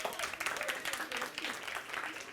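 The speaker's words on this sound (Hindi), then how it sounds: "एक बार जोरदार ताली हो जाए इनके लिए" An audience at a live stage show applauds in a dense, even, fairly distant patter of many hands for a couple of seconds.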